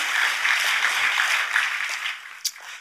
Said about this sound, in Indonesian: Yuk kasih tepuk tangan dulu yang luar biasa.